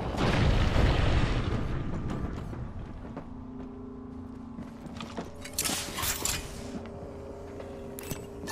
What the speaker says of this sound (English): There's a care package coming down.